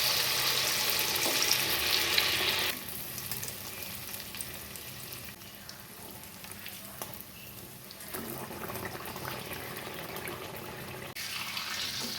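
Appam batter sizzles and fries in a pan, a steady broadband hiss that is loudest for the first few seconds and then settles to a softer, continuous crackle.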